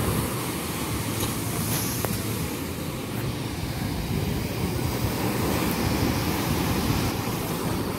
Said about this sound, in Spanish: Está muy fuerte el mar.